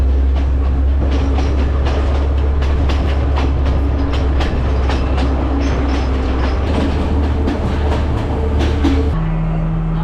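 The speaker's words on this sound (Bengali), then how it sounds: "এখানে কিছুক্ষণ দাঁড়াবে ট্রেনটা।" A passenger train on the Kandy to Ella line in Sri Lanka rolls along loudly and close, with steady rumbling, rhythmic clickety-clack of wheels on rail joints and a low engine drone throughout.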